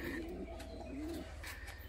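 White Giribaz pigeons coo in low, rolling murmurs, two drawn-out calls close by over a steady background hum.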